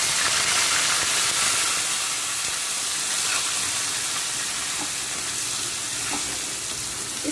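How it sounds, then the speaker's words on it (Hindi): Onion puree hits hot oil with a loud, steady sizzle and hiss in a pan seasoned with asafoetida, bubbling continuously with faint stirring clicks and no voices. "अब सबसे पहले हम इसमें डालेंगे प्याज की प्यूरी।"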